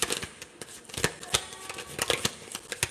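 Tarot cards shuffled by hand during a horoscope reading, a steady run of crisp riffling flicks and soft slaps repeating about every quarter second, close up with no talk.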